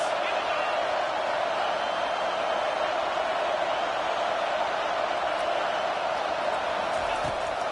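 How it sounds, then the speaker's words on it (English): Stadium crowd at a football game, a dense, steady roar that stays loud and unbroken for the whole stretch with no clear peaks or pauses. "This crowd trying to make life miserable for this offense."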